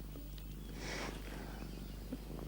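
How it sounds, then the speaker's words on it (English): A pet cat purring softly and steadily at close range, a low continuous rumble with quiet room noise and no talking. "Look, my cat. She's purring."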